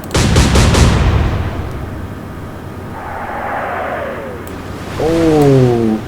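A naval gun fires in Atlantic Fleet with a loud, heavy boom at the start that rolls into a long rumbling tail. A warbling whistle follows as the shell flies, then a rising engine-like tone near the end. No one talks.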